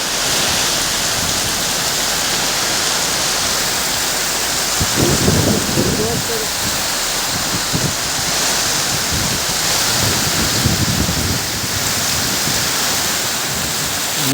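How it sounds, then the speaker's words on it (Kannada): Heavy rain pouring down beside the Netravathi river in Dakshina Kannada, a loud, unbroken roar of water with low rumbling surges and a voice briefly heard beneath it. "ತುಂಬ ಜೋರಾಗಿ ಇರು ಮಳೆ, ಇಷ್ಟೊಂದು ಯಪ್ಪ"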